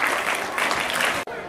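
Children in the audience of a district Urdu literature week gathering in Ahmednagar clap briefly in dense, lively applause that cuts off abruptly just before the end.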